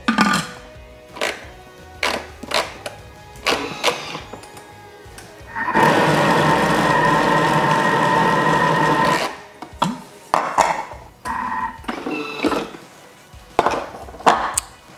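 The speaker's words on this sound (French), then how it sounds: "j'en donne un petit coup de mixeur" A food processor coarsely chops salmon for dill salmon balls in one steady, loud whirring burst of a few seconds, set between scattered kitchen clatter and knocks.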